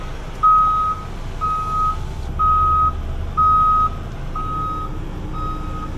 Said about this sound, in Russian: Серьезно, у него пикалка.